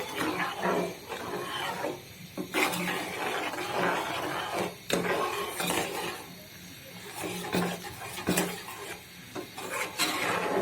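Hot tempering is poured into cooked masoor lentils, giving loud, busy crackling sizzle with repeated sharp clanks and scrapes of a utensil against the pot, close by and continuous with no talking.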